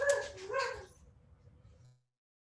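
Dogs barking and yipping in the background, two sharp barks at the start fading into low rumbling noise, fairly faint with no speech.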